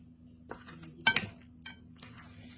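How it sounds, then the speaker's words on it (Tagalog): Guacamole being stirred in a bowl, with a few distinct clinks and scrapes of a utensil against the dish, spaced irregularly and fairly close, with no talking over it. "So, haluin lang natin mabuti."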